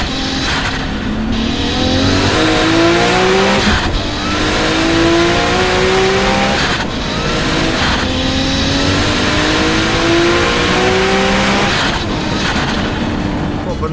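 A loud race car engine, a big single-turbo T88 Nissan R32 GTR with a dog box, revs hard through repeated rising gear pulls, each climb cut by a brief shift, roaring close and continuous as it accelerates away.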